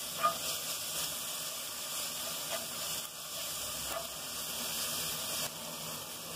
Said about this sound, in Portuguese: nesse momento, para refogar, eu já entro também com um pouco do tempero caseiro